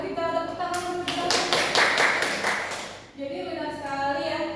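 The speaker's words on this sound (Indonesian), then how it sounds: "Boleh kita tepuk tangan bersama." A schoolroom class claps together in a quick rhythmic burst of about eight sharp claps, with someone speaking just before and after.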